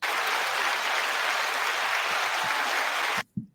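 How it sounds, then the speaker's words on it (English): An audience at a business talk applauds with a dense, steady clapping that holds at full strength, then stops abruptly, leaving only a couple of faint thumps. "You didn't realize you're getting applause."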